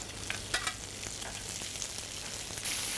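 Celery and bones from a poultry carcass roast and sizzle in a pan, a steady frying hiss with light stirring scrapes and a couple of brief knocks, close by with no talking.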